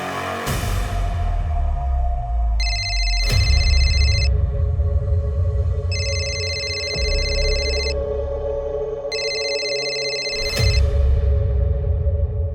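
A telephone rings in three bursts of bright, stacked electronic tones, each lasting about two seconds with short gaps between, set loud against a dense background score with sharp dramatic hits.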